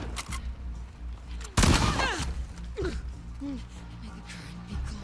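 A shotgun blast in The Last of Us Part II, one loud sharp report followed by a ragged decaying tail, with game ambience and brief voice sounds around it.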